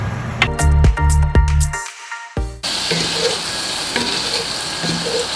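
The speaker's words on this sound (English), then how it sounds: "going to let that simmer in the butter" Food cooks in butter in a pan, with loud scraping and stirring knocks at first, a brief lull, then a steady close sizzling hiss to the end.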